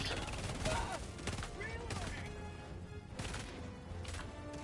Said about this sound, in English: We are getting shot at by a lot of bugs.